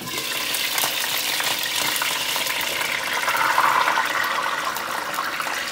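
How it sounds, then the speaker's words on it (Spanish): Water poured into a hot pan of browned chicken breasts with oil, a loud steady hiss and sizzle of frying with splashing running through the whole stretch, no talk. "Le voy a agregar la taza y media de agua"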